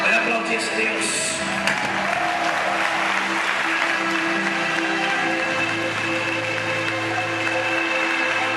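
A church congregation applauds at a vigil service in a steady, dense wash of clapping that carries through the whole stretch, with music or voices sustained underneath.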